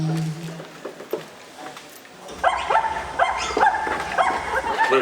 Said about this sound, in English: Come here, little puppy.